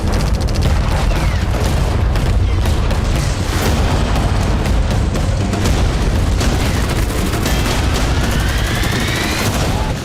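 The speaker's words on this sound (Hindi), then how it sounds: "रूसी सेना ने T-90 टैंकों से ट्रेंच में यूक्रेनी सैनिकों पर गोले दागे।" Heavy shelling from Russian T-90 tanks firing on soldiers in trenches, with a dense, continuous barrage of booming blasts and crackling gunfire throughout, loud and close, with no talking.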